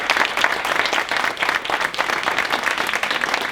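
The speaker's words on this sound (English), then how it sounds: "I think another round of applause." Sustained applause from an audience at a workplace improvement-method report-out event, dense steady clapping filling the room for several seconds without a break.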